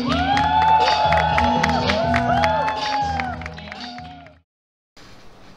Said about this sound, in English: Give them your highest blessings and claps and cheers.